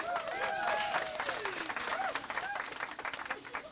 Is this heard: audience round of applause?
yes